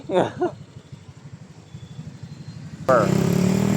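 A motorcycle engine rumbles steadily with a low, pulsing drone, briefly under a voice, then wind and road noise surge louder as the ride continues.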